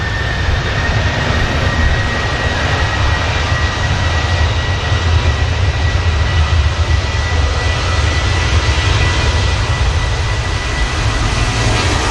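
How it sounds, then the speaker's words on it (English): A Ryanair airliner departing Manchester Airport for Eindhoven: a loud, steady jet engine roar with broad rumble and a high whine, sustained without a break for the whole stretch. "Aircraft heading to Eindhoven"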